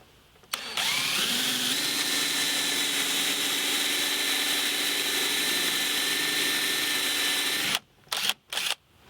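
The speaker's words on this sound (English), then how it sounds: "now I'm going to drill 2 countersink holes for the lag bolts and a washer" A power drill whines steadily for several seconds, its pitch rising as it spins up, then stops, followed by a few short bursts of drilling countersink holes in wood for lag bolts.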